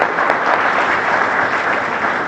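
An audience at the launch of the Gran Melia hotel in Arusha applauds in a thick, steady wash of clapping that stays loud and even from start to finish.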